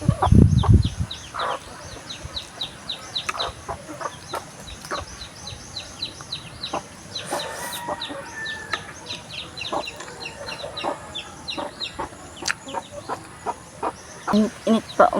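Steady clucking from several fighting roosters nearby, with scattered short calls and chirps over a busy outdoor background, one louder squawk near the start.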